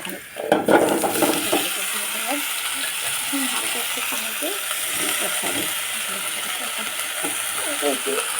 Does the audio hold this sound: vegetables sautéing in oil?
yes